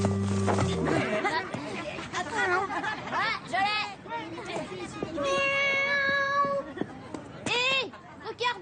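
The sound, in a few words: cat meowing, a kitten stuck in a tree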